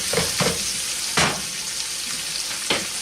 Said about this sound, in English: Take my onions and go ahead and add my onions.